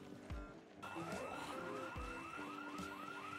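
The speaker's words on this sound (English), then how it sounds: "Who set off that house alarm so close?" A house alarm in the video game Project Zomboid sounds nearby, a rising and falling electronic wail that repeats in quick sweeping cycles over a low background rumble, with no talking.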